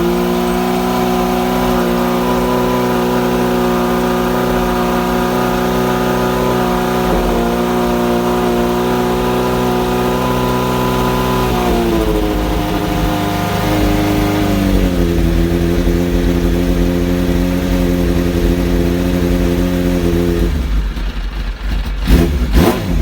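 A Suzuki Bandit 600 motorcycle engine runs loud and close on full choke, a steady harmonic idle that shifts pitch a few times as the revs settle, then cuts out near the end.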